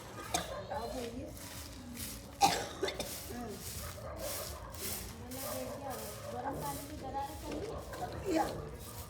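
A person coughs several times, one harsh cough standing out sharply, with Hindi conversation and household noise continuing around the coughs at a moderate level.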